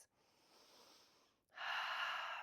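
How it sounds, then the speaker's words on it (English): A person doing a deep yoga stretch exhales softly, then after a brief pause draws a stronger, louder breath, close to the ear with no talking. "Taking a deep breath,"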